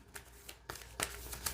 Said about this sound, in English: we're going to go ahead and shuffle our decks up